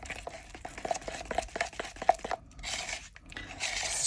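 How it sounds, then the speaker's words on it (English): A stirring stick scrapes and stirs epoxy resin in a mixing cup, producing quiet, irregular scraping and clicking taps up close, with no talking. "And just mix that in well with the lovely stirring stick that came with the kit."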